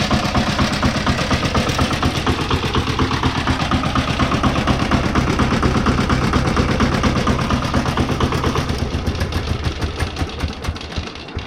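A walk-behind garden tractor engine runs steadily and loud throughout, a dense chugging rumble with rapid regular firing pulses that ease slightly near the end.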